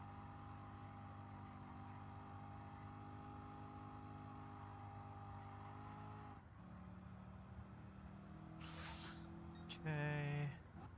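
Engine of a Lamborghini race car in Gran Turismo 7, a steady droning hum at constant pitch that shifts tone partway through, followed by a couple of brief, sharper revving bursts near the end.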